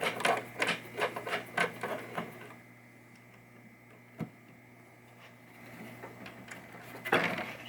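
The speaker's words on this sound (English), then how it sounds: "Let's take the socket wrench off so I can get it." A socket wrench works the nuts off the stepper unit of a 1972 Williams Super Star pinball machine, giving a run of quick, faint ratcheting clicks and rubs. Then comes a quiet stretch with one sharp tick and a final clatter.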